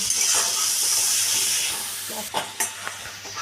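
Turmeric and spice masala sizzling in a pan while being sautéed for a Bengali fish dish, a steady close hiss with a few scraping stirs near the end, no talk.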